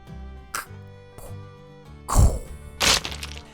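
Over a soft musical bed, a couple of small clicks lead to a loud cracking smash, followed by a second bright burst, like an egg shattering at the bottom of a cliff.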